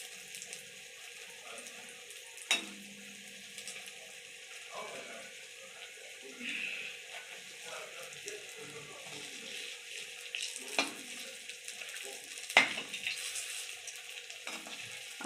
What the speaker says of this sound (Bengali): এক খোলাই যে আমি উঠিয়ে নিয়েছি, আর একটা এই যে ভাজছি।